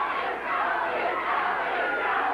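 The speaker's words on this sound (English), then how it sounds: "Fans screaming Tony" A wrestling arena crowd roars and yells for Tony in a steady, dense wash of voices that fills the whole moment at moderate loudness.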